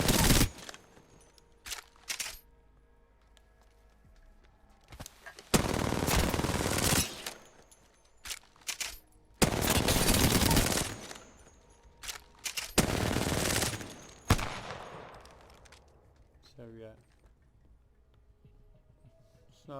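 An R99 submachine gun in Apex Legends fires in several long, loud full-auto bursts separated by short pauses, each burst a dense rapid rattle, followed by softer movement and mechanical handling sounds near the end.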